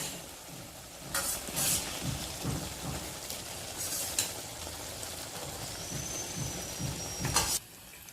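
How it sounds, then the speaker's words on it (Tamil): Cooked toor dal is stirred into sweet potato masiyal in a pan, with repeated scraping and wet, squelching strokes over a soft sizzle, close and fairly quiet. "அடியில் பிடிக்காம இது நல்லா ஒன்று சேர்ற மாதிரி கலரி விட்டுக்கோங்க"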